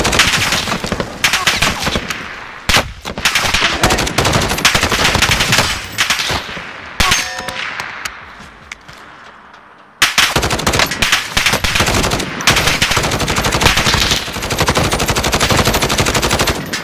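Sustained automatic gunfire from a Call of Duty match, loud dense bursts of rapid shots that continue almost nonstop, with a brief lull midway before the firing resumes.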